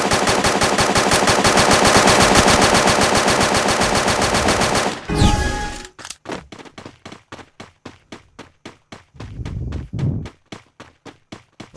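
Rapid automatic gunfire from the battle royale video game Free Fire, a dense sustained burst for about five seconds, then a loud impact followed by a string of sharp, evenly spaced single shots and short bursts, close and loud with no talk.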